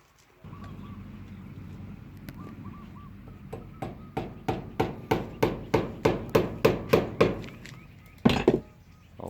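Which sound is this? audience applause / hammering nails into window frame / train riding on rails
hammering nails into window frame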